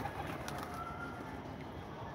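Pigeons coo softly from a rooftop loft in light rain, a low, throaty warble that carries on steadily across the moment with a faint wet background hiss.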